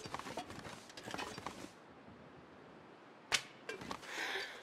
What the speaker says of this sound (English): The sounds that we were making right there, we sounded like a frightened horse shuffling about.